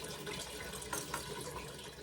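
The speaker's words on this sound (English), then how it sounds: "I am filling up my 8-quart biggest can I have, and I am filling it with water" Tap water pours steadily into a large 8-quart pot, a continuous broadband rush at moderate level with no talk.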